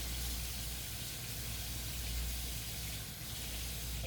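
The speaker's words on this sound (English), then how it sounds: "Now I gotta wash your hand." A kitchen tap runs steadily while a young child's hand is washed at the sink, a continuous broadband water rush heard close and alone, with no talking.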